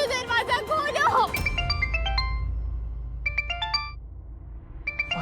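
A phone ringtone plays in a Hindi TV serial scene, a bright repeating electronic melody in three bursts after a woman's urgent pleading, fairly loud and clear over a low background hum.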